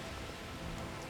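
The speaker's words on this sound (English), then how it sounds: "Flying through rain." Steady rain heard while flying through a storm in the game Horizon Forbidden West, a continuous soft hiss of falling drops with a low rumble beneath, even and unbroken throughout.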